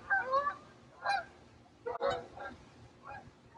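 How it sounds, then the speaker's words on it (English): Geese or ducks call in short honking bursts near a bass-fishing spot. The calls come in several scattered groups over a steady low background rumble, with no talking. "here comes our ducks. Let the ducks go by."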